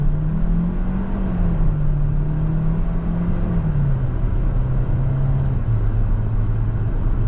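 A 2027 Kia Seltos AWD subcompact SUV accelerates on throttle, its engine drone heard from inside, steady and moderately loud, with a smooth rising and settling tone and no talking.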